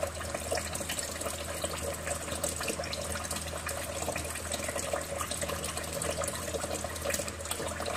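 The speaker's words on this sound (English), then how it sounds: "Now rinse thoroughly with the use of running water and inspect the remaining dirt or soap" Steady running tap water while hands are rinsed during a medical hand-washing procedure, a continuous even hiss and splash with no talking.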